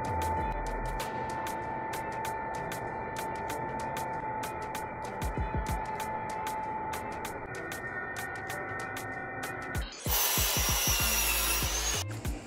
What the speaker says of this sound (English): I bought just a 7 foot board, one of these, and I'm gonna cut 34 inch lengths on it